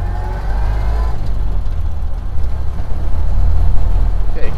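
Low engine drone of a Ford Model A left in gear, engine braking the car down to a stop, a steady close rumble that swells slightly toward the end.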